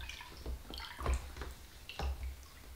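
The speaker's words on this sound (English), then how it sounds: "So let's do some stirring." Watery wallpaper paste is stirred in a container for a living-room build, giving repeated sloshing, dripping swirls that come in several close, moderately loud strokes.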